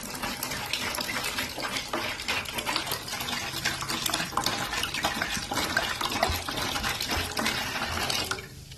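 Red wine poured into a container, a continuous splashing liquid stream lasting several seconds before stopping abruptly, close and fairly loud, no speech.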